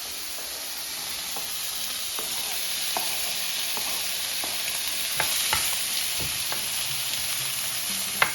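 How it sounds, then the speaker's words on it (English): Bacon, onions and garlic sizzling in a pan on the stove, a steady close hiss of frying with a wooden or metal utensil stirring through it in scattered scrapes and knocks, and no talking. "get this bacon all cooked up, but I'm also going to be adding the onions and garlic to this"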